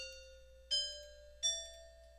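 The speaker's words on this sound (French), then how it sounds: "ça va être carillon, ça va être le premier instrument." Carillon notes played back in MuseScore notation software, three clear bell-like tones in a rising sequence, each ringing on with a long decay, quiet and alone.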